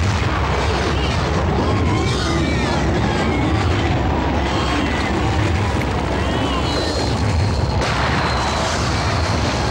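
A landmine explosion in a Tamil-dubbed action movie roars as a loud, sustained blast with a heavy low rumble and crackling debris filling the whole stretch.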